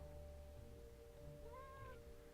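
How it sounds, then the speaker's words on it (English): A cat meows in the Nancy Drew video game Mystery of the Seven Keys, a short rising-and-falling electronic-sounding call over a steady background hum, with no talking. "Is that a cat meowing?"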